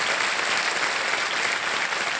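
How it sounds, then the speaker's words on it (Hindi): A studio audience on a televised quiz show applauds a contestant, a loud, dense and steady wash of clapping with no voices. "तालियां बजती रहें इनके लिए,"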